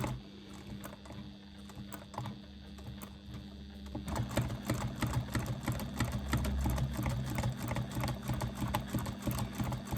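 A sewing machine runs free-motion quilting, with rapid continuous needle clatter that grows louder and denser partway through and stays steady to the end, with no talk over it.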